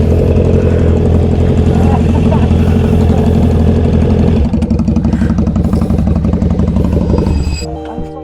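A Honda CB650R motorcycle engine runs steadily and loud, close by, with a dense droning rumble that shifts slightly midway and eases near the end.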